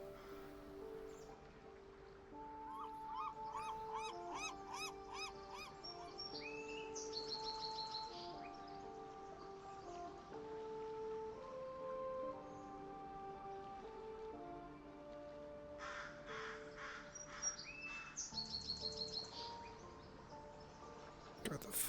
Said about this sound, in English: God, the fucking birds are so loud.